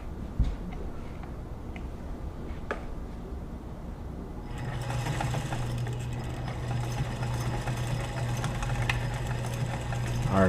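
A White 600 sewing machine motor starts up and runs steadily after a few quiet ticks and clicks, a continuous close mechanical hum with rapid stitching chatter and no talking.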